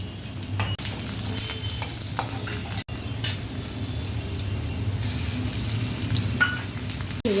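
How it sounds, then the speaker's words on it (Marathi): Garlic and green chillies frying in oil in a pan for shev bhaji, a continuous close crackling sizzle with occasional stirring clinks, steady and without talk. "लसूण पण चांगला तेलामध्ये फ्राय करून घ्यायचा आणि मिरच्या"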